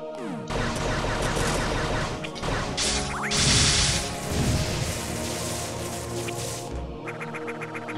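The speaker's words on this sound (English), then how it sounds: "you can't fire missiles during that explosion phase" A video game explosion in a Metroid 2 remake: a sustained, loud barrage of crashing, crackling blasts with bright bursts and rumbling layers, running for several seconds before cutting out abruptly near the end.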